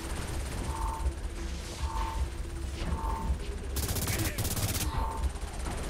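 Chaotic Saints Row 4 combat with dense, continuous gunfire, a few repeated tonal beeps and a loud harsh burst partway through, all over constant rumbling game noise.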